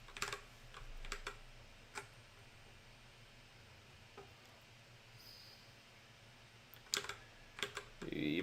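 A password is typed on a computer keyboard as scattered, faint key clicks, spread unevenly across a quiet room tone.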